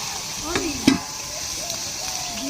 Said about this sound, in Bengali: মাখানো চিংড়ি মাছটা দিয়ে দেবো, ঢাকা দিয়ে কষিয়ে নেবো।